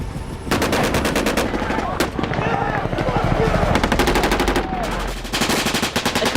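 Heavy automatic gunfire during a military assault on Helmand province, loud bursts of machine-gun fire in rapid succession with brief pauses, close and dominant, with a narrator's voice mixed in.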